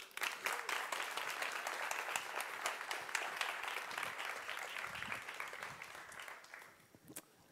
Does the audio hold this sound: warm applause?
yes